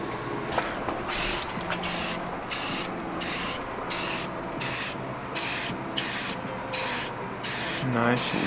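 Spray gun bursts repeatedly as a Honda CR-Z cowl is painted at night, about a dozen evenly spaced hissing passes, each roughly half a second long, loud and close over steady background noise.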